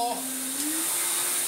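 A Miele S424i vacuum cleaner runs on its lowest 300-watt setting, giving a steady airy whoosh with a sustained motor whine that rises slightly in pitch, close and continuous.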